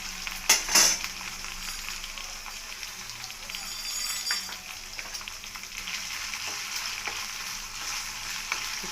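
Cumin and black pepper sizzle and fry in a pan for pongal, a steady close crackle with a few clinks of a utensil near the start and no talking.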